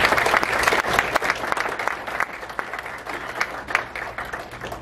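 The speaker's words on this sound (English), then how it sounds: "Please give a round of applause to Mayor Hartke" A chamber of commerce policy event audience applauds the mayor, a full crowd clapping with sharp individual claps standing out, loud at first and tapering slightly toward the end.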